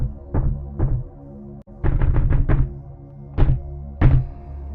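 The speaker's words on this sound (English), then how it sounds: "I could faintly start to hear doors being banged on down the hall." Heavy, booming thuds of doors being banged on down a school hallway land in irregular bursts, one or two blows, then a rapid cluster of four or five, then single hits, over a low steady hum.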